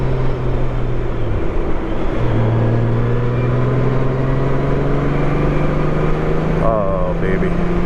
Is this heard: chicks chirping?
no